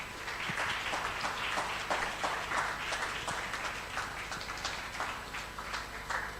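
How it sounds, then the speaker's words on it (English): Audience applause for a speaker being introduced at an evening digital marketing meetup in Sheffield, a steady dense wash of clapping held at even loudness throughout with no voices over it. "Please give her a big round of applause."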